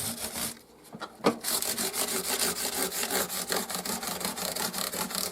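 A hand file smooths the fret ends on a guitar under repair after a broken headstock: after a brief pause and one sharp scrape, quick rhythmic rasping strokes follow close up, steady and alone.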